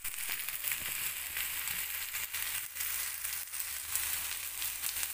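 Tomatoes hitting a pan of frying onions with sponge gourd, giving a steady, close sizzle with faint crackles and a few soft stirring scrapes throughout.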